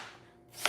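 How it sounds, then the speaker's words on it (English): A knife chops onions in a home kitchen, a single sharp cut landing near the end of a short, quiet stretch of faint background noise. "So let's just cut all our onions and put it in the pot"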